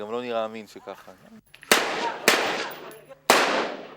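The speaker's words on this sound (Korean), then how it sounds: "사격 연습은 모두 실탄을 이용해 실전처럼 진행됩니다." Live-ammunition gunshots at a settlement firing range used for residents' anti-terror training, three sharp loud cracks spaced about a second apart, following a short stretch of talk.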